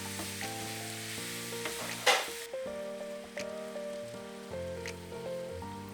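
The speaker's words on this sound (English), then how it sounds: "So this part I just stir the meat so it cooks a bit." Ground meat fries in a pan while a spoon stirs and breaks it up, bright sizzling with scraping and clanking strokes and one sharp knock partway through, no speech.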